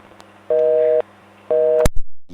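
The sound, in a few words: telephone busy tone after a prank caller hangs up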